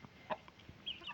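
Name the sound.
kodi kaki nemali chicken breed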